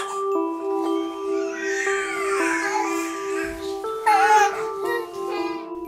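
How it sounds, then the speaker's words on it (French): Young children in a childcare setting babble and cry, with high, wavering infant cries and chattering voices overlapping close by, plus a louder wail near the end. "Les cris, les pleurs,"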